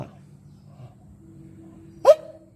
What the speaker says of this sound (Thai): ไม่ต้องร้องไม่ต้องเห่า